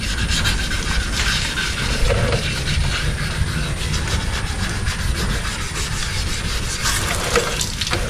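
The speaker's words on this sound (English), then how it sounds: "So that's epoxy over 320, what you're sanding right now?" Steady abrasive rubbing of sandpaper over epoxy primer on a classic Chevrolet Impala lowrider body, 320 grit, continuous and close with a constant broadband hiss throughout.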